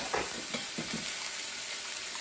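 Eggs frying in a pan for a homemade breakfast, a steady broad sizzle with a few soft scrapes of stirring near the start, heard up close and alone.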